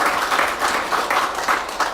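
A church congregation claps during a Lutheran Sunday worship service, a brief, even burst of many hands applauding together at moderate loudness.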